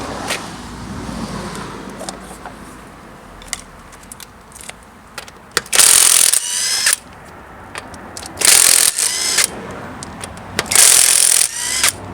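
Short bursts of a power tool whirring as a front wheel is removed from a 2003 Chevrolet Trailblazer for a brake job, amid clanks and handling noise in a workshop.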